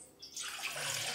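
Hot water poured to soak tamarind for pulihora, a sudden close splashing rush that begins after a quiet moment and continues steadily to the end.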